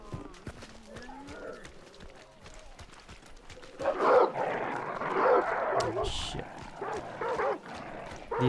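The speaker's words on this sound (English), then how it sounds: "These dogs can alert other people as well." Dogs barking in the video game Hunt: Showdown, a burst of yips and agitated barks that grows louder midway, amid game noise and footsteps, with players talking over it.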